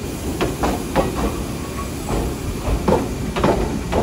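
A train rumbles and hisses steadily at moderate distance during shunting, with irregular clanks and knocks of cars being moved; no voices.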